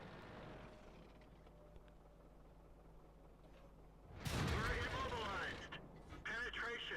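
A tank cannon shot in World of Tanks lands as a sudden loud broadband boom after a quiet stretch, its noisy tail trailing off for a couple of seconds before a second burst follows.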